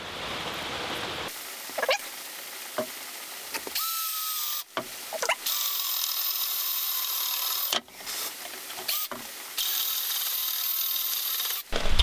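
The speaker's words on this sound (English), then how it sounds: "So I've got a wood bit here. Just going to put it in the middle." A wood bit drilling into the middle of a wooden loft ladder part for a tiny house: bursts of high whirring drill noise with brief pauses and rubbing scrapes between them, close and steady.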